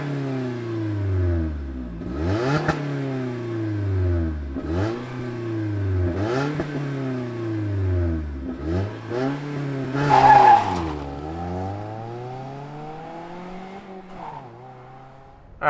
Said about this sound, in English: why don't we fire it up and hear what that catback exhaust sounds like